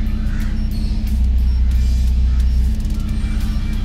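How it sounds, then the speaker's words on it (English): Mercedes-Benz E 400 Cabriolet twin-turbo V6 with its aftermarket exhaust valve half open, a loud, close, steady deep idle rumble that swells briefly in the middle, then settles. "the valve is half open now, so when you give the throttle, it's mild, it's not loud"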